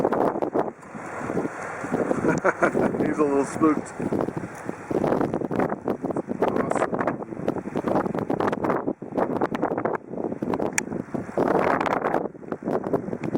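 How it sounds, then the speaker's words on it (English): Strong wind buffets the microphone with a constant roar and gusts on open land, while someone talks briefly over it. "It's pretty windy."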